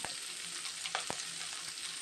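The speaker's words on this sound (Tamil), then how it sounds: "இப்போ ஒரு கடாயில் எண்ணெயை ஊற்றிக்கிறலாம். இதோட நம்ம கடுகு, உளுந்து சேர்த்துக்கிறலாம்." Mustard seeds, urad dal and onion fry in oil in a kadai with a continuous hissing sizzle and a couple of sharp little pops or stirring clicks, close and fairly loud.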